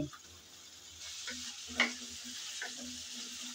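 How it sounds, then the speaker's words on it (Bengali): Taro pieces frying and being stirred in a pan, a steady close sizzle with occasional soft scrapes and stirring knocks, continuous and moderately quiet. "সেজন্য আগে একটু নেড়েচেড়ে ভেজে নিচ্ছি।"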